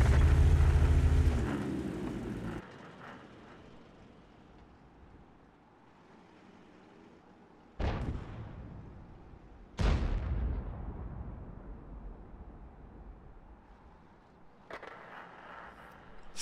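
Several booming tank cannon shots in the video game World of Tanks, spaced seconds apart. Each is a sharp crack that trails into a long rumbling decay, with quieter stretches between them.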